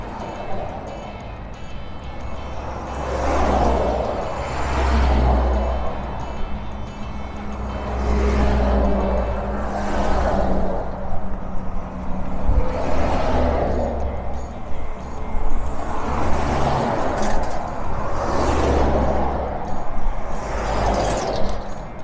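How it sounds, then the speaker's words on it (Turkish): Heavy road traffic with trucks rolling past continuously, a deep engine rumble and repeated swells as vehicles pass close by, heard along a mountain highway on a bicycle tour between Ulukışla and Pozantı in Turkey. "Sanki memleketin bütün kamyonları buradan geçiyor ya."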